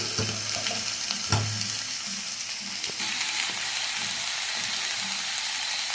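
Flat beans and eggplant pieces frying in a pan, a loud, dense sizzle filling the whole stretch, with a sharp knock early on and a few soft stirring scrapes, no talking.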